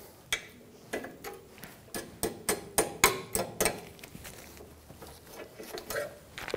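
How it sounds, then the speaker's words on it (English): Cotter pin being worked out of a front ball joint on a 2010-2014 Subaru Outback, a run of sharp metallic taps and clicks in an irregular rhythm, close and isolated. "Remove the cotter pin for the ball joint."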